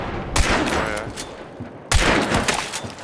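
Gunfire in the video game Hunt: Showdown: two sharp, loud shot bursts about a second and a half apart, each with a ringing echoing tail, close by.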